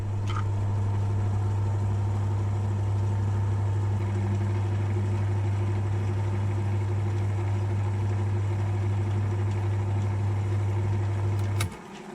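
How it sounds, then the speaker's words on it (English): A metal lathe machines one side of a part for a ball turning attachment, giving a steady, loud low motor hum with faint cutting noise above it that continues unbroken before the machine stops near the end. "We'll put this in the lathe now, and I'll just machine that side off"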